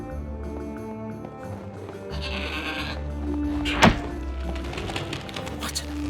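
A goat in the Trine 4 video game bleats once, loud and close, over a steady bed of game music and ambience, with light thuds and footsteps around it.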